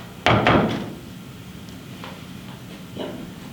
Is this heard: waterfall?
no